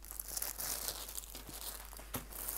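A plastic packet is handled and crinkled, producing a run of close, irregular crackling and rustling bursts, with one sharper crunch near the end, with no talk.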